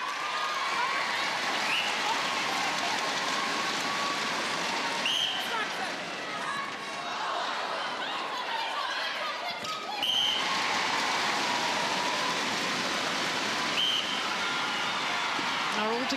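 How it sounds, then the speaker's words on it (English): A loud netball crowd in a 2010 ANZ match between Steel and Fever cheers and roars continuously for the home team, with bursts of applause-like noise, while a commentator talks over it. "the players will not be able to hear themselves because the crowd is so loud"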